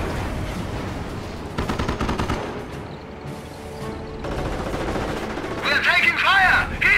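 Rapid machine-gun bursts and heavy gunfire from a World War II battle in the Company of Heroes: Opposing Fronts strategy game, loud and near with crashing impacts, while a radio-style soldier's voice shouts.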